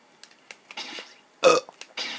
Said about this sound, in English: I keep wanting to belch for some reason, but it's not going out so well.